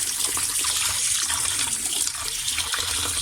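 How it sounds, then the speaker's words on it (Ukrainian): A kitchen knife is rinsed under a running tap, giving a steady close rush and splatter of water over a sink that lasts the whole moment without pause. "Ніж ми йдемо мити."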